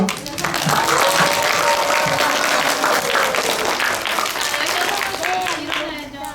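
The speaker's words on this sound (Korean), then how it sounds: "긴장하고 있을 16명의 꼬마 강연자들을 위해 큰 박수로 응원해주세요." A school audience at a third-grade student expo gives sustained, loud applause to encourage young speakers, steady throughout, with voices faintly mixed into the clapping.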